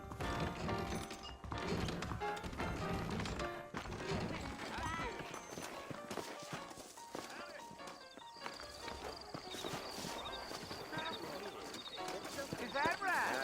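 Horse hooves clip-clopping in the western video game Red Dead Redemption, with whinnies and game music, plus character voices speaking over the trotting.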